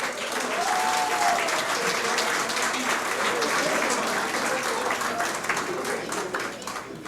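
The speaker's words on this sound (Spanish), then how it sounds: "Un fuerte aplauso" A crowd applauds loudly and steadily for about seven seconds, a thick even roar of clapping that fades slightly at the close.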